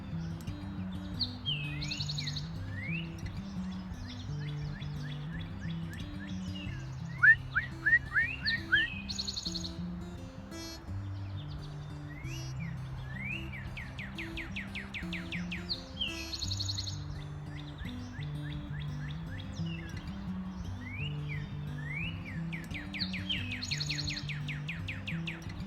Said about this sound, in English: Can you guys hear all these birds right now?